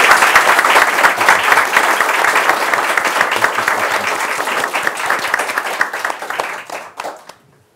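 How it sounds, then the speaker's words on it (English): Audience applause at a film discussion event, brisk dense clapping that stays strong for about six seconds, then thins and fades out into quiet near the end. "Give her a round of applause?"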